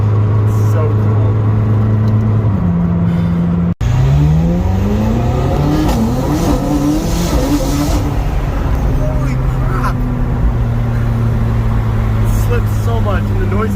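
A McLaren 620R sports car engine drones and revs up and down through the gears, rising and falling in pitch, with a person talking over it.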